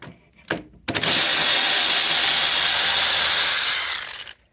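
A power tool runs steadily for about three and a half seconds, loosening an E12 upper strut bolt on a Mercedes GLK (X204) during a front strut job, after a couple of short preceding clicks and bumps.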